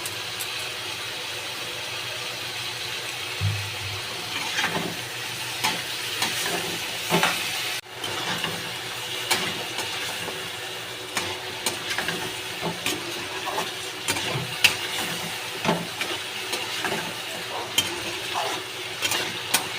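Chicken curry sautés over low heat in a pan, a continuous soft sizzle and hiss with repeated scraping stir strokes and occasional clinks throughout.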